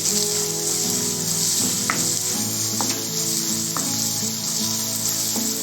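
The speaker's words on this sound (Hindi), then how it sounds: "आधा चम्मच कश्मीरी मिर्च पाउडर, इनको भी भून लेंगे हम।" Onions with Kashmiri chilli powder and coriander powder fry in a pan for dhaba-style dum aloo, giving a loud, constant close sizzle with a few light stirring clicks.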